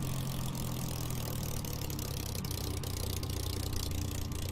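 Spitfire L.F Mk IXc piston engine running steadily in a VR flight simulator, heard as a constant low droning rumble with no pauses, loud and close, with no talking over it.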